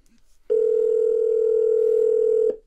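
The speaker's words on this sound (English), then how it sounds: "The first thing we'll do is make a phone call." Outgoing call tone through Apple CarPlay on a Pioneer NEX car receiver: one steady, loud electronic tone held for about two seconds after a short quiet start, then cut off.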